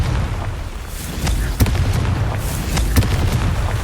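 Fire-spell blasts from the Confringo spell in Hogwarts Legacy, with two sharp booming bursts over a loud, steady rumble of game sound.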